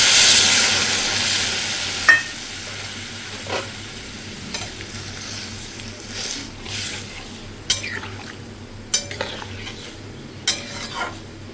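Water poured into a hot frying pan of Bengali fish curry base sets off a loud burst of sizzling that fades to a gentle bubbling, broken by several sharp scrapes and clinks as a utensil stirs the pan.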